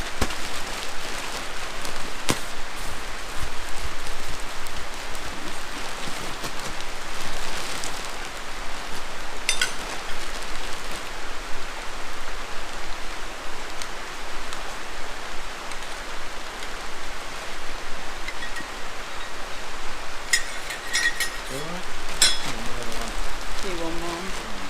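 Steady rain falls on a farm as a continuous broadband hiss with scattered drip patter throughout, with brief voices of people talking nearby.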